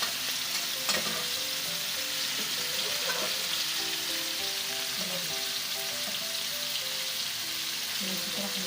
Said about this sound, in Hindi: और इसको आहिस्ता आहिस्ता मिलाएंगे।